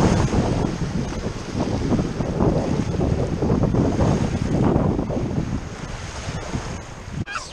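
Wind and small waves at the Yellowstone Lake shore near a wading spot, a steady rushing wash with heavy wind buffeting on the microphone, continuous throughout with no talk.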